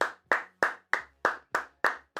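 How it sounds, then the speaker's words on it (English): A lone person claps steadily during a livestreamed sports show, eight sharp claps spaced about a third of a second apart, close and dry with no other voices. "Let's clap until we get to 40 likes."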